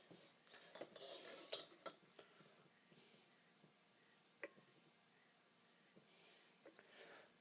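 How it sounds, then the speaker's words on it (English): A ladle rubs and scrapes soup through a fine mesh strainer into a bowl, giving soft, intermittent metallic scrapes and clinks that are busier at first, then sparse and quiet. "Rub your ladle through it."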